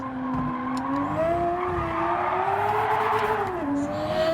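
Gran Turismo 7 racing game audio: a car engine drones and revs with rising and falling pitch, and tyres squeal through corners, loud and continuous throughout, with no speech.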